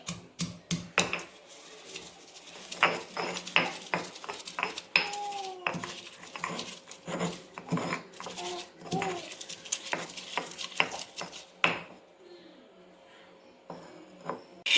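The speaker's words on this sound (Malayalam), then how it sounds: "ഇനി ഈ കാന്താരി നന്നായിട്ട് ചതച്ച് എടുക്കുക" Kanthari bird's eye chillies are crushed for a spicy gooseberry pickle, with repeated sharp pounding and clinking knocks in an irregular rhythm, close and clear, while a voice speaks quietly in between.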